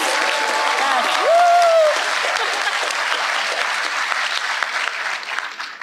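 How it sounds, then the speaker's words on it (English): Audience applause at a medical school white coat ceremony, a steady, dense wash of clapping that fills the room throughout, with a brief voice-like whoop or cheer rising above it early on. "let's give him a round of applause"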